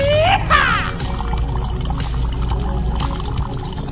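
Water pours and trickles steadily through a DIY overflow on an aquarium pond, a continuous close splashing flow with a few brief chirpy tones near the start.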